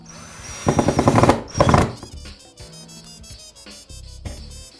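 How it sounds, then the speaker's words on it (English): A power drill drives screws into a rustic custom-made wooden picture frame, giving two loud bursts of whirring followed by quieter clicks and handling of the frame and tools. "So you want to hold it in place, you know, just drill, not too tight."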